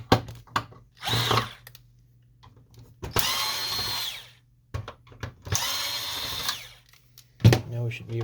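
A power screwdriver whirs in several short bursts while backing screws out from under the control panel of an HP Officejet 4630 printer, with clicks and handling noises between bursts.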